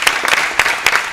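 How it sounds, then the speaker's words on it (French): An audience claps loudly for the Lions Indomptables, a school team from the Complexe Scolaire Évangélique of Owando, at a final in Brazzaville; the sharp, uneven claps come in quick bursts. "On les applaudit très très très fort."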